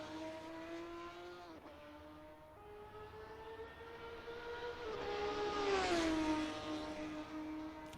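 Formula 3 race car in a racing video game at Silverstone, its engine droning steadily at middling distance, pitch dipping and then climbing sharply as the car accelerates out of a corner, with no talk.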